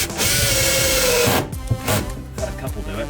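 Power drill driving screws through plywood into wooden battens inside a Luton box van conversion: a loud steady whir of about one and a half seconds, then short bursts and knocks close by.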